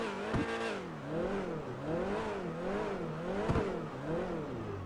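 The Cheetah Classic, an Italian-styled car in GTA 5 Online, revs repeatedly in place, its engine rising and falling in several rhythmic waves. Two sharp blips of the throttle stand out, loud and close with no talk over it.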